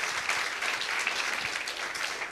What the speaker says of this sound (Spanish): Dele un aplauso si usted cree eso conmigo.